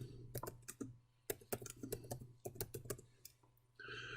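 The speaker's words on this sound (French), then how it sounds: "Appuyez sur Tab, la touche Tab, pour passer à la cellule suivante" Keys clatter on a computer keyboard in quick irregular bursts with brief pauses, including presses of the Tab key, close and crisp with no voices.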